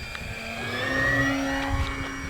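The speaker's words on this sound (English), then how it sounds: "I love a dual motor airplane." A twin-motor E-Flite Beechcraft D18 1.5 m RC plane with retracts up flies past on an overcast day, its paired electric motors giving a rising, sustained whining drone that swells and fades slightly as it passes.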